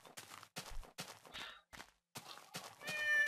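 A cat from the Mo Creatures mod in Minecraft meows in a quick run of six or seven short, loud calls separated by brief gaps, followed by a stretched, wavering cry at the end.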